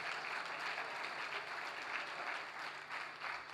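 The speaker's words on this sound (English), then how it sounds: "Please give her a wonderful round of applause" An audience at a public bodies corporate governance awards ceremony applauds singer Cheryl after her national anthem performance, with steady, dense clapping that holds evenly throughout.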